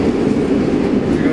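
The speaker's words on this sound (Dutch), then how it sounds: "En we zitten nu in de trein naar huis." Steady rumbling interior of a moving train on the ride home, a constant low rolling drone with faint wheel clatter, close and loud, with no talk.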